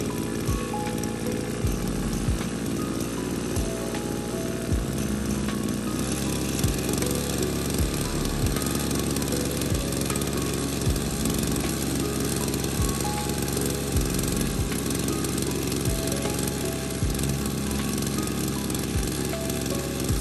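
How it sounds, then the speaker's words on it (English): The engine of a homemade DIY generator revs steadily and loudly, close by, like a small lawn mower motor, with a rapid rattling chug and repeated ticking pulses that run the whole time. "rev up the engine and connect the lines to the multimeter"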